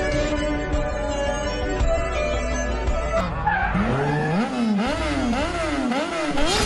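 Motorbikes racing with tires skidding, a loud sustained engine drone that gives way to sharp, wavering squeals repeating up and down in pitch.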